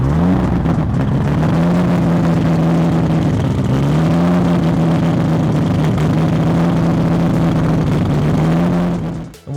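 RB26-powered car backing out with its engine running steadily and loud, a harmonic drone carrying a faint periodic warble from loose water pump pulley bolts, then cutting off at the end.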